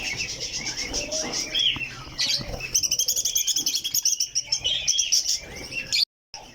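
Pet parakeets in a backyard aviary chirp and tweet almost nonstop, a busy layered chatter close by with wing flutters, brief pauses, and a faint voice in the background.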